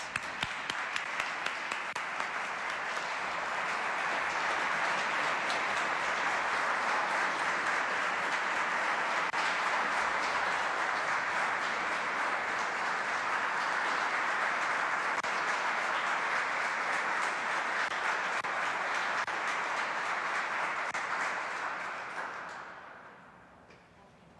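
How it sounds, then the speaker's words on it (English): Sustained audience applause fills a state governor's awards ceremony as recipients accept an honour, steady and moderately loud for over twenty seconds before fading out at the end. "Let's give them a round of applause"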